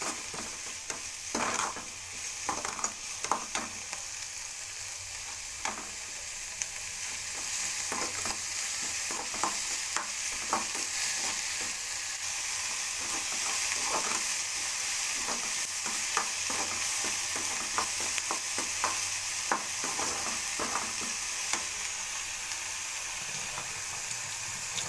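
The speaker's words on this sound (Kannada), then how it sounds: "ಚೆನ್ನಾಗಿ ಬಾಡಿಸ್ಕೋಬೇಕು." Masala for masala chapati is sautéed in a pan with salt, a steady sizzle running throughout while a spatula scrapes and taps against the pan in irregular strokes close by.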